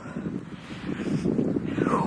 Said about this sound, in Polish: hula wiatr po polach